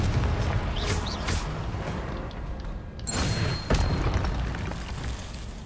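Fiery blasting spell explosions from Hogwarts Legacy on Nintendo Switch: several heavy booming bursts, one near the start, a cluster around the middle and a sharp blast later, over a rumbling game background.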